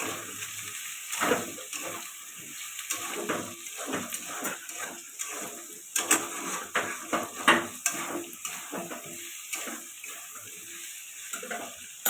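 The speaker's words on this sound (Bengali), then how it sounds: "এবার আলু দিয়ে দেবো আলুটা ভালো করে কষাবো" Potatoes stirred and sautéed with spices in a pan for a cauliflower, potato and soybean curry, with repeated scraping and clinking of a spoon against the pan in an uneven rhythm over a faint sizzle, close by.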